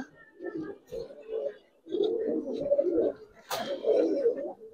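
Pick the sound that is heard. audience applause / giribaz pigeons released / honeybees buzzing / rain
giribaz pigeons released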